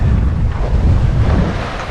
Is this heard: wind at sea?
yes